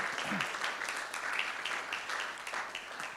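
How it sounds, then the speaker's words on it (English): Applause from an audience thanking a presenter at a talk, a soft, continuous wash of clapping heard from a distance, steady across the whole stretch. "Let's give him a round of applause."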